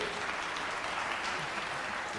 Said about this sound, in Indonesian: Kita beri tepuk tangan pada Philip.